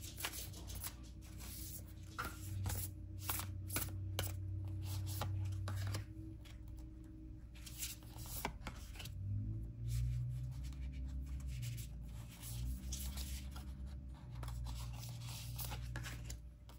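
Oracle cards are handled and shuffled up close, with soft papery riffles, slides and taps coming in uneven bursts, separated by short quiet pauses.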